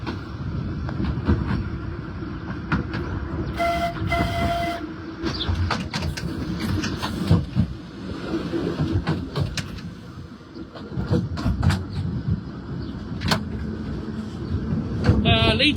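A Seaton tram, car 10, running on the Seaton to Colyton line, with a steady rumbling motor and wheel drone, rattles and clanks, and a brief bell-like tone near the start, heard from the cab.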